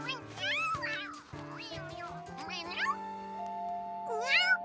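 A cartoon cat meows in a string of bending, chattering cries, several short calls in the first half and another near the end, with sustained musical tones underneath and a voice heard faintly.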